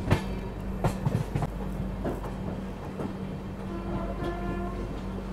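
Kashi Mahakal Express train rolling along the rails on the line toward Jhansi, a steady low rumble with periodic clicks and clunks of wheels over joints, heard from on board with no talk.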